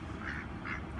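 Ducks quack in short repeated nasal bursts, fairly faint against steady background noise outdoors, with no talk.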